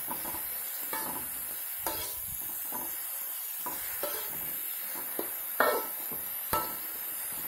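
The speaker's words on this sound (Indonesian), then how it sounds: "kemudian gula kita aduk kembali" A spatula stirs broccoli and carrot stir-fry with sugar in a sizzling pan, producing steady hiss with repeated scraping clinks and clatters against the metal, close and alone without talk.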